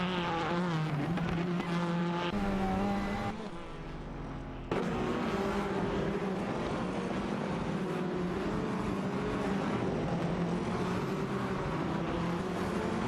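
Alfa Romeo Giulietta TCR and Audi TT Cup race cars in a video game drive neck and neck, engines whining and droning continuously, with pitch shifting through gear changes and a short dip in the middle.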